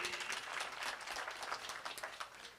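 Applause from the crowd at a university graduation ceremony, many hands clapping in a soft, continuous wash that sounds somewhat distant and quiet, with individual claps flickering through.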